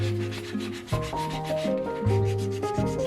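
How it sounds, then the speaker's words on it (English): Close, continuous rubbing and scraping as baked doll pieces are sanded down, a steady abrasive sound with a few shifts in stroke, no voices. "all the pieces were sanded down"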